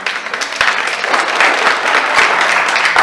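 An audience at a city listening session on resting in public spaces claps after a public comment, a loud, close roomful of hands with sharper individual claps standing out.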